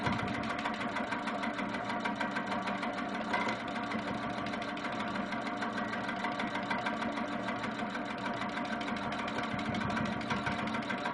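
A sewing machine runs continuously while free-motion stipple quilting a block, giving a steady rapid mechanical chatter of needle strokes at close range, with no pauses and no talk.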